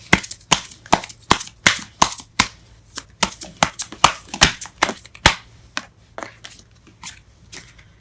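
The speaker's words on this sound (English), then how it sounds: "we're gonna only pull one card for the outcome" Tarot cards are handled and drawn from a deck in a sharp, irregular run of crisp snaps and flicks, loud and close, with brief quiet gaps between bursts.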